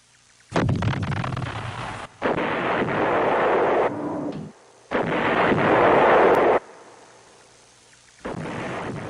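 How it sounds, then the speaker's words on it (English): Artillery fire from American Marine guns at the Khe Sanh combat base during the siege. Three long, heavy roaring blasts with rolling rumble tails, separated by brief gaps, and the start of a fourth. Loud and close, with no voices. "Every night, the Marines laid down concentrated patterns of fire on likely areas."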